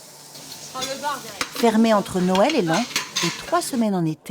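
Food sizzles and fries in a busy bistro restaurant kitchen, with utensils stirring and pans clattering beneath a narrating voice that dominates.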